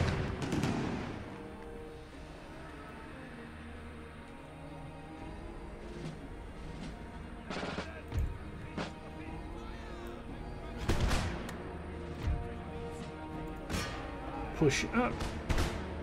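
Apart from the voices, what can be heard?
cannon fire in video game Empire: Total War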